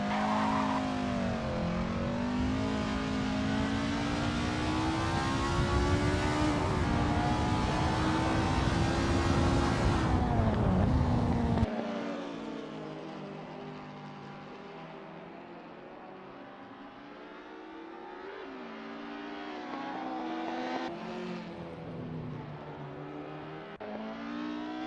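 Ford Escort RS race cars at Oulton Park in the racing game Assetto Corsa, loud engines revving and droning with rising and falling pitch, dense and close at first, then thinning to a quieter, more distant engine hum.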